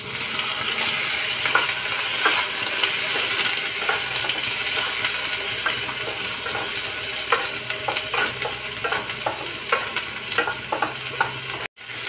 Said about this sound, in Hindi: प्याज हल्का ब्राउन हो गया, अब इसमें मटर ऐड करेंगे